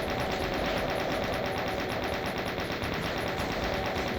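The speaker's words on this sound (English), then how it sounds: "Gatling gun? Chain gun?" In the 1993 video game DOOM, a chaingun fires a continuous rapid burst with a fast, regular rattle of shots that stays loud and steady throughout, with no talk over it.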